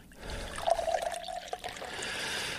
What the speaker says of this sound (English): Keep pouring.